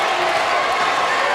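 Crowd noise at a high school basketball game, Pleasantville versus Atlantic City, erupting after a player's big-time dunk: a steady, loud roar of cheering and applause filling the gym with no pause.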